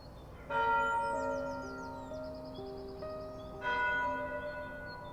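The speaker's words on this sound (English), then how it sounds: "As the bells tolled one by one" Church bells toll with rich, ringing strikes that sustain and overlap, a second strike arriving partway through, with clear lingering tones and no talk.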